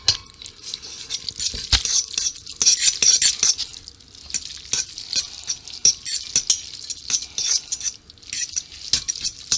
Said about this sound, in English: take your fork and give it a good mix